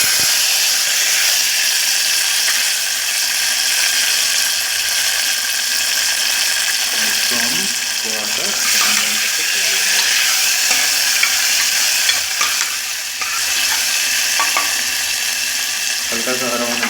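Tomatoes and onions fry with a steady, loud sizzling hiss while being stirred in the pan, and a voice talks briefly over the cooking in places.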